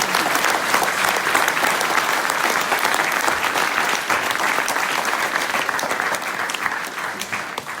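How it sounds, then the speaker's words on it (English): Audience applause for speaker Marco at a Speck&Tech tech meetup, sustained loud clapping from a room full of people that carries on evenly and tapers slightly near the end. "final big applause for Marco"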